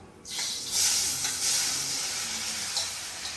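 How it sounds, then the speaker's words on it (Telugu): Mushrooms sizzle loudly in hot ghee in a pan for a mushroom soup, a steady broad hiss and crackle of frying that holds throughout with slight swells, no talking. "ఇప్పుడు మష్రూమ్స్ ఇలా వేసాను, ఇవి బాగా వేయించుకోవాలన్నమాట."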